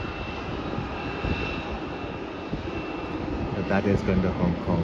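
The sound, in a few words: Cathay Pacific Boeing 777-367ER jet departing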